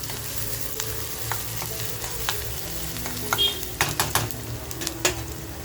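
Onion sizzles in hot oil in a home kitchen pan, a steady crackling fry broken by sharp clicks and scrapes of stirring, close and moderately loud.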